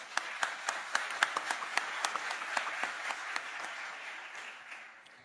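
Audience applause at a football federation election assembly, announcing unopposed candidates: a burst of many hands clapping with distinct sharp claps early on, thickening into a steady wash of applause that fades slightly toward the end, moderately distant.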